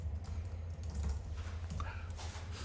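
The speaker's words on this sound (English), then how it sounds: "He was typing on his computer." Typing on a computer keyboard in a podcast studio: quiet, irregular key taps under a steady low hum of room noise.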